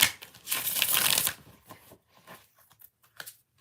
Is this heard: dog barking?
no